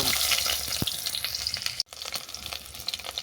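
Cut mango pieces drop into hot oil with fried five-spice seeds for mango kasundi, setting off a loud, dense crackling sizzle that runs steadily throughout, with a brief dip near the middle.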